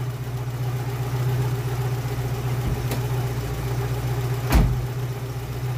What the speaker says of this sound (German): Der Motor hört sich topgesund an